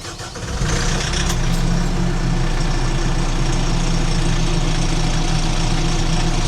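FOX L25 loader diesel engine, already warm, cranking over and settling into a steady, loud idle with a deep low rumble and constant broadband drone, up close and without talk.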